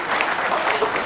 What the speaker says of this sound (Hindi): जहां से अच्छी लगे बात ताली बजाते जाइएगा